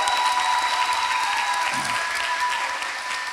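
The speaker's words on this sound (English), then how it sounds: "So give yourselves another round of applause for that." A crowd at a Temple University rites of passage ceremony gives a full round of applause, a loud, dense wash of clapping that holds steady and tapers slightly near the end, with faint cheering mixed in.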